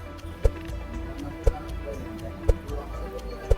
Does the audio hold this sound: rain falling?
no